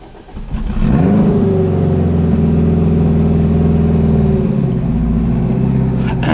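An AWD Honda Civic engine starting after sitting unused for about two months, catching after a brief crank and then holding a loud, steady rev with a deep hum before the pitch settles lower.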